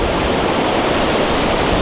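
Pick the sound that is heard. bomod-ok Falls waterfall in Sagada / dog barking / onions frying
bomod-ok Falls waterfall in Sagada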